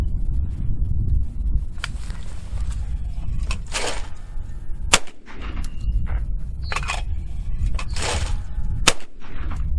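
A Retay Masai Mara inertia shotgun fires light target loads outdoors. Several sharp, loud blasts come at irregular intervals, each ringing briefly over a low background rumble.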